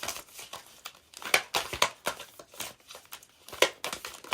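Papery crinkling and riffling in quick, irregular bursts, close and fairly quiet, like stiff cards being handled and shuffled, with no voices.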